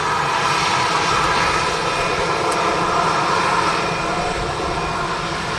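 An EasyJet airliner arriving at Manchester Airport gives a loud, sustained, even jet roar that fills the whole stretch without pause or talk.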